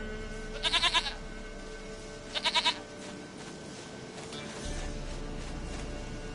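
Goat in The Witcher 3 bleating twice in short, wavering calls over faint ambient game background, fairly quiet and near.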